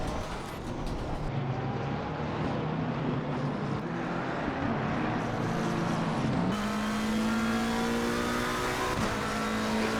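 A BMW race car in the sim racing game Assetto Corsa Competizione, during an online sprint race at Spa, holds a loud, steady engine roar that climbs in pitch through the gears, with another car's engine mixed in.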